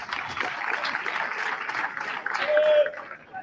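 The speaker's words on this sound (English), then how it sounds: "We can give His Lordship a round of applause once again" Audience at a 60th anniversary celebration of St. Edmund's Secondary School applauding for His Lordship, a dense, steady patter of clapping that swells slightly before tapering off, moderately distant.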